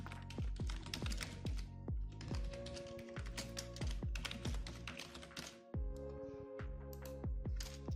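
Rapid, loud clicking of a computer keyboard as an email address and account details are entered, keystrokes coming in quick bursts with brief pauses, close and alone.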